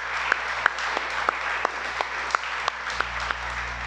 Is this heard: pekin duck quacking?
no